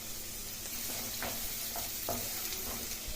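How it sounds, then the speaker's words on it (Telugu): Chopped tomato pieces tipped into frying carrots and vegetables for a cowpea and green gram curry, with a continuous hiss of frying and a few soft stirring scrapes close by. "ఆ తర్వాత ఇప్పుడు కట్ చేసి పెట్టుకున్న టమాటా ముక్కలు వేసుకుందాము."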